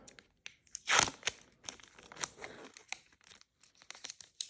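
Close, quiet crinkling and tearing of plastic packaging, with a sharper rip near the start followed by scattered crackles.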